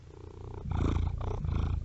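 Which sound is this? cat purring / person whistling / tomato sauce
cat purring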